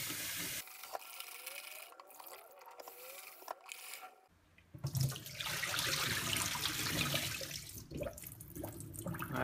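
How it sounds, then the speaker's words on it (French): Tap water runs over sprouted buckwheat in a kitchen sink as it is rinsed until clear, a steady broadband splashing that swells after a quieter start with fainter trickling. "le rincer encore jusqu'à que l'eau elle soit bien claire"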